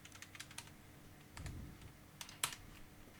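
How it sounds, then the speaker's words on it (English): Soft, quiet clicks of a computer keyboard being typed on during a jewelry design session in Rhino 8, scattered taps and a short cluster of keystrokes with no voices. "Press enter on your keyboard."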